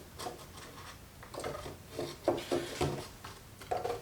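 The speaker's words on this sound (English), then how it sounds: "to attempt to cut this out with a coping saw" A coping saw cuts thin, floppy wood by hand in steady rasping strokes that grow more distinct and rhythmic partway through, close and moderately quiet.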